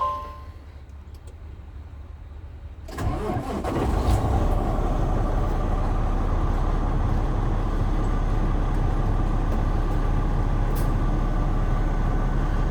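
After a quiet idle, a big diesel truck engine cranks and roars to life around three seconds in, then settles into a loud, steady rumble.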